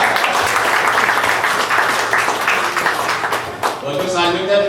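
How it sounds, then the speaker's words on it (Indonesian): An audience at an Indonesian community gathering in Jeddah marking Indonesia's 76th Independence Day applauds YouTubers, with dense, steady clapping that fills the room and carries on for several seconds under a loud, crowded mix of voices. "Tepuk tangan buat YouTuber Jeddah."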